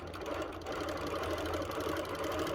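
A sewing machine doing free motion quilting runs in a steady, fairly faint rapid mechanical whir with an even stitching pulse.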